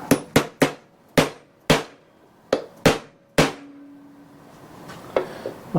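Hammer strikes on a part of a Briggs and Stratton flathead engine during a rebuild. About nine sharp metallic taps come in an uneven rhythm, close and loud, followed by a couple of fainter knocks.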